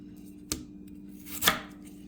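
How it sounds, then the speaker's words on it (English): Two sharp knife chops through potatoes on a cutting board, about a second apart, close up, with a quiet room hum between them. "So you just want to chop them off into just rough little tiny pieces."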